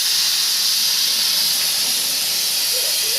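Steady, loud hiss of steam escaping from a pressure cooker cooking khichdi, a continuous close rush that holds unbroken throughout.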